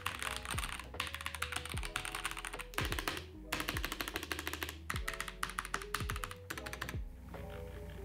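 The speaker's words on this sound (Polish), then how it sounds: "przesmarowanie zapewnia nam oczywiście dużo lepszy dźwięk ściskania klawiszy" Lubed mechanical keys on a 75% keyboard clacking in quick, uneven bursts of typing, close and crisp, with short pauses between flurries.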